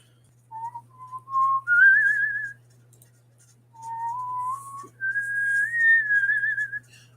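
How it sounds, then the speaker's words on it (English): A person whistles a wavering tune alone, clear and close, in two phrases that each climb from a lower note to a higher warbling one, with a pause between them over a faint steady hum. "I'm like singing and humming and whistling today."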